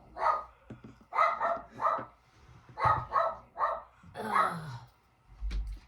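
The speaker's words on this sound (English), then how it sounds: "My dog's going to start barking now because the dog next door out barking" A dog barks in quick clusters of two or three, fairly close, with a brief whine, then the barking resumes.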